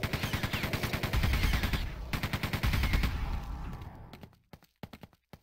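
Rapid bursts of gunfire from shooting enemies in Quake II, loud and repetitive for about four seconds, then sparser single shots trailing off into near silence.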